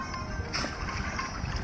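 Water sloshes and gurgles steadily as the ornate peacock-prow boat glides in within the Meena mobile game, with a brighter splashy swell near the start and no voices.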